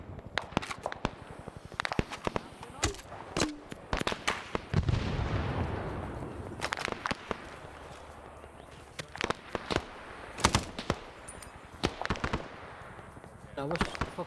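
Grenade launchers in a Vietnam-era military video game fire off in repeated sharp thumps and bursts at varying distances, with a sustained rumbling blast in the middle, amid other battle noise.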